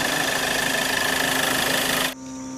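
A 2015 Hyundai Verna SX(O) car engine idles with a steady, even hum and faint mechanical whir, recorded up close with no talking; the sound drops off sharply near the end.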